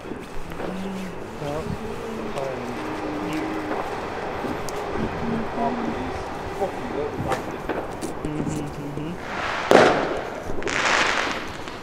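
Fireworks set off on Bonfire Night, with a steady background hiss and crackle, then two louder bursts near the end, one a sharp bang followed by a fizzing whoosh. People talk faintly throughout.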